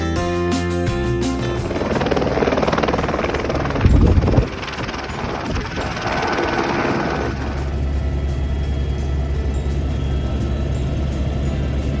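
A helicopter arrives at the Kedarnath Temple helipad on a post-lockdown pilgrimage, its loud, steady rotor and turbine roar filling the air, with a gusty buffet midway and no voices.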